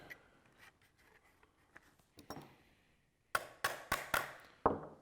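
A heat shield is pressed down into a plastic Ruger Mini-14 Archangel precision stock: faint rubbing and handling at first, then a quick run of five sharp, close plastic clicks and knocks near the end.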